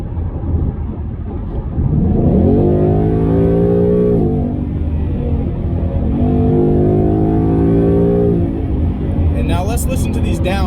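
A Mustang engine rumbles at idle, then revs up twice in strong rising sweeps through a loud track-mode exhaust, each time dropping back to a deep burble.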